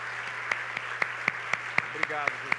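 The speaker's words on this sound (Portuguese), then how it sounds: "Levante um aplauso para Jesus, majestoso, Criador de tudo." A church congregation claps in slow, even unison beats at worship, each sharp clap standing out over a low steady electrical hum, with a brief voice near the end.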